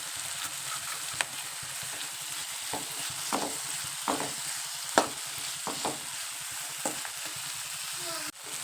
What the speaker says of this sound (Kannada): ಈ ಥರ ಸ್ವಲ್ಪ ಒಂದು 5 ನಿಮಿಷ ಸಣ್ಣ ಉರಿ ಒಳಗೆ ಇದನ್ನು ಸ್ವಲ್ಪ ಬೇಯಿಸ್ಬೇಕು ರೀ